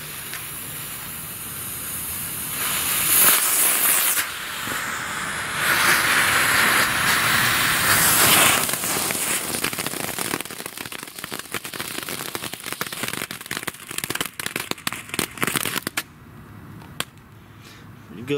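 Cutting Edge firework tank with a star bursting outdoors: loud crackling bursts and whooshing spray run for most of the clip, easing off near the end, with no one talking.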